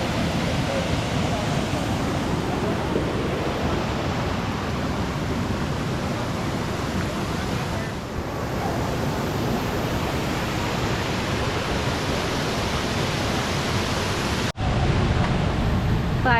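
Dismal Falls on the Appalachian Trail pours in a steady, loud, full-bodied roar that fills the whole stretch without a break, dipping only for a brief moment near the end.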